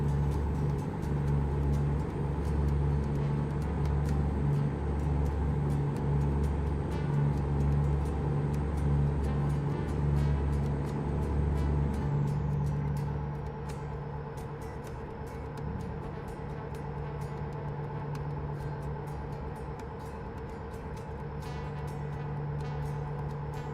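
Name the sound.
ship engine rumbling in the video game Starfield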